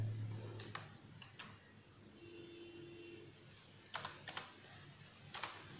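A computer keyboard is typed on to fill in a captcha: scattered clusters of quiet key clicks over faint room hum, with pauses between bursts and no talking.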